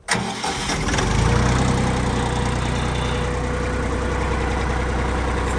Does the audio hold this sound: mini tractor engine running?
yes